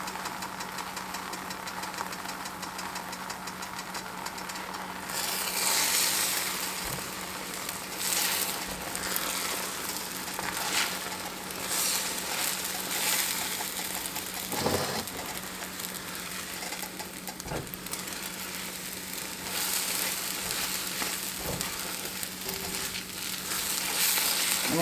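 Scrambled eggs cook in a hot pan on a stovetop eye in an Appalachian kitchen, giving a steady, close sizzling hiss that carries on without a break and with no talking.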